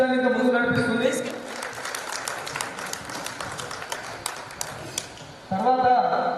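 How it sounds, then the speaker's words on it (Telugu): An audience at a school get-together claps to welcome a teacher on stage, a dense, steady burst of applause lasting several seconds, framed by someone speaking before and after it. "ముందు మన మిత్రులందరూ క్లాప్స్తో సార్ని పైకి ఆహ్వానించాలి."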